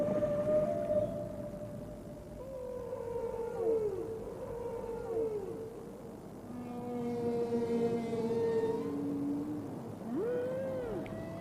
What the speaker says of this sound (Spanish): Los sonidos que emite la ballena jorobada no solo difieren de año en año